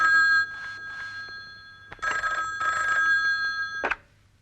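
A telephone rings in two bursts of trilling bell tones, the first short and the second longer, fairly clear and close, then stops abruptly with a quiet tail.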